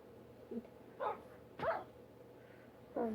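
A Minecraft dog (tamed wolf) gives several short barks and yips spaced about half a second to a second apart over a low steady hum, moderately close and clear.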